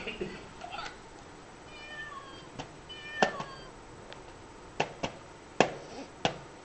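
A few faint, brief meows from a cat, scattered among sharp clicks and taps in a quiet room.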